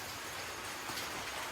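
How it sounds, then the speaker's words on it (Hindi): Rain falling outdoors as a dense, even hiss of drops, steady and continuous at moderate level across the whole stretch, with no talk. "देखो अभी बारिश हो रही है।"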